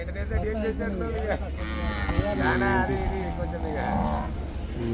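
A water buffalo lows nearby in a few drawn-out calls at the busy Erragadda buffalo market in Hyderabad, while people talk over a busy background of voices.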